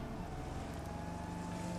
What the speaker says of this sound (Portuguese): É uma lancha, cuzão. Vamos de lancha.